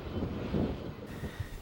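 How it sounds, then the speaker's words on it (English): A long BNSF freight train hauling containers and trailers rumbles through Cajon Pass, a low, steady rolling drone with some wind buffeting on the microphone. "While we watch the long train heading to Los Angeles"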